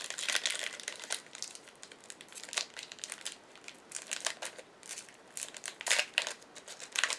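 A foil or plastic wrapper on a pack of My Little Pony cards crinkles and crackles continuously up close, with dense bursts of rustling and no talking.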